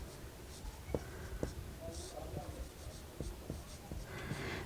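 Pen strokes scratching on paper while a maths problem is written out, a series of soft, close, irregular taps and scrapes under quiet room tone.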